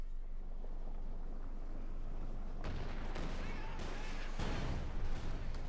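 Tank shells strike a Pershing heavy tank in a Company of Heroes 2 battle, landing as several loud, sharp blasts in quick succession over a steady low rumble of wind and engine noise.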